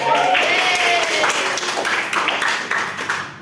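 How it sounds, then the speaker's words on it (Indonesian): Students in a classroom clap together after an ice-breaking game, a close burst of scattered hand claps that fades toward the end, with voices chattering underneath. "Oke, tepuk tangan untuk kita semua"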